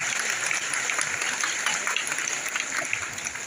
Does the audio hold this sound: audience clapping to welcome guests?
yes